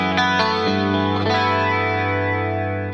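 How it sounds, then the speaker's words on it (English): A sustained 1980s-style electric guitar chord with lush tri-stereo chorus shimmers widely. A couple of quick picked notes at the start lead into a held, slightly overdriven wash that cuts off at the end. "Now here it is with the beautiful tri-stereo chorus"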